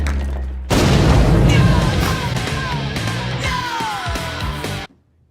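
Incendiary grenades burst in a scene from The Boys, a loud sudden boom opening a dense roaring blast that rumbles on for about four seconds, with screeching high tones and shouts mixed in before cutting to silence.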